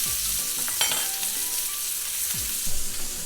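A beef tenderloin steak sears in a hot pan with a loud, constant hiss and crackle, broken by a few short scrapes and pops, and no one speaks.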